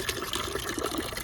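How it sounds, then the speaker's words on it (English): Homemade liquid fertilizer, undiluted, poured onto seedlings, a continuous splashing trickle of liquid at close range with small bubbling fluctuations. "I'm going to water the seedlings with it."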